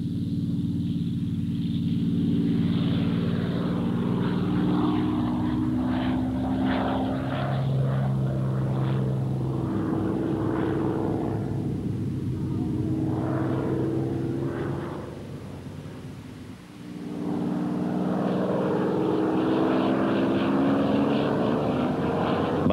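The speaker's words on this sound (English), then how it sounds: "nine RAF fighter squadrons were flying Spitfires, and as they sped overhead" A Supermarine Spitfire fighter's propeller engine drones steadily overhead, loud and sustained, briefly dipping then swelling again as the aircraft passes.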